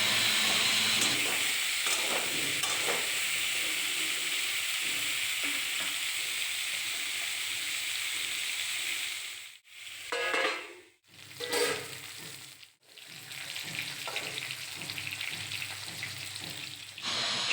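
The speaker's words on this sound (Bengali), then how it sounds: "আর দিলাম নুন আর হলুদ। গ্যাসের ফ্লেমকে রাখবো কমিয়ে, ঢাকা দিয়ে করব ফুলকপিকে নরম।" Cauliflower frying in oil in a pan with salt and turmeric, a steady close sizzle and hiss with stirring, briefly cut by short pauses near the end before the sizzle resumes.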